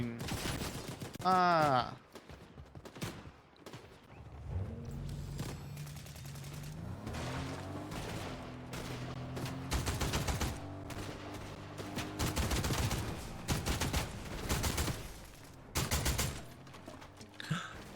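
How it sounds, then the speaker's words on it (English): Video game gunfire in a shooter, repeated bursts of rapid shots and volleys scattered across a long stretch, fairly close, with a brief exclamation from a player. "Oh, I'm being shot at."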